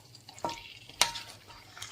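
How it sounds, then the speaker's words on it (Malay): Boiled mutton is stirred with spices in a frying pan, with a couple of sharp metallic scrapes against a soft background sizzle. "Saya dah masukkan daging kambing yang telah direbus tu dan kita kacau hingga semua rempah"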